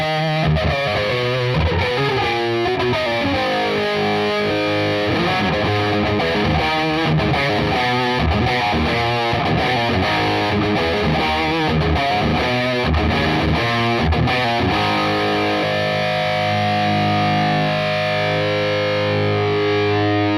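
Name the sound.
modified MXR flanger pedal on distorted guitar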